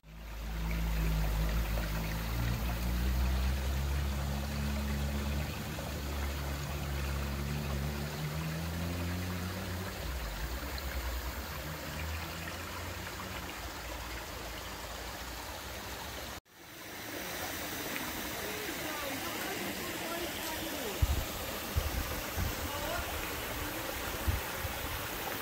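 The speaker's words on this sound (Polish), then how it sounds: "tam dalej cała ta rzeka płynie" A river at Kokkino Nero in Greece streams and rushes continuously, a steady close water roar lasting the whole stretch, with a brief dip midway and a few small knocks near the end.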